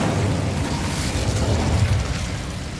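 A fiery magical blast from the Incendio spell in Hogwarts Legacy, a dense, rumbling roar of flame that fills the whole moment with steady, loud low-end energy and no talking.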